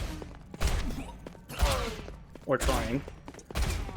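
Bursts of first-person shooter gunfire arrive in several separate volleys between stretches of talk, fairly loud and punchy against the mix.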